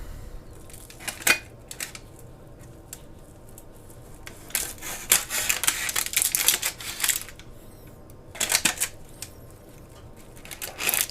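A knife cuts a homemade cheesecake in half, giving a few scraping, rubbing bursts that cluster near the middle and again toward the end, with quiet pauses between them and no talking.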